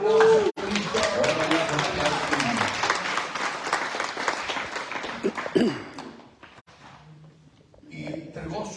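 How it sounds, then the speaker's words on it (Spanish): A church congregation applauds Christ during a service, sustained dense clapping with voices mixed in, then tapering off as talk resumes. "Denle un aplauso a Cristo."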